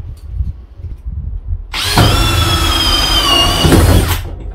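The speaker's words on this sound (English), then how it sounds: "let's start drilling some holes" A power drill bores holes into the body of a self-build Iveco Daily 6.5 tonne campervan conversion, starting abruptly after quiet background and running loud and steady with a high whine for about two seconds before stopping.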